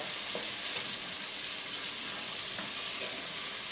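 Onion sautéing in a pan gives a steady, soft sizzle, with faint scrapes now and then as it is stirred; no voices over it.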